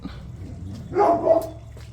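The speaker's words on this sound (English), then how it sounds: "Hopefully the neighbor's dogs won't bark a whole lot." A dog barks once or twice at a moderate distance in a quiet outdoor yard, a brief sharp call over faint background noise.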